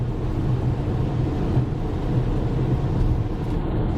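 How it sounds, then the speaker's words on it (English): Steady broadband wind rush and low road roar fill the cabin of a high-roof Maxus e-Deliver electric van accelerating toward 100 km/h, constant and fairly loud with no talking. "here I can definitely quite distinctly hear very significant wind noises"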